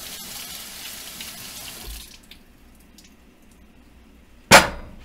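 Tap water runs steadily into a sink as potatoes are rinsed for fried potatoes, then drops away to quiet kitchen background before a short sharp knock near the end.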